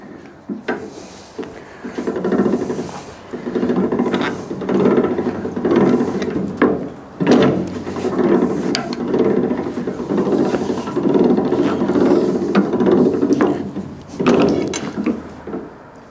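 An adjustable metal bending machine worked to curl metal for a sculpture, giving steady grinding, ratcheting mechanical strain with repeated clanks and creaks, close and continuous for the whole stretch, no talk.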